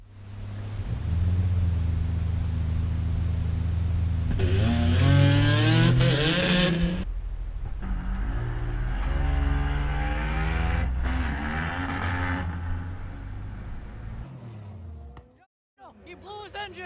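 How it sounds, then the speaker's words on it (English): An Integra Type-R at a night drag strip, its engine roaring loudly up through rising revs and then breaking into a rough, harsh rumble before cutting out abruptly near the end. "He blew his engine!"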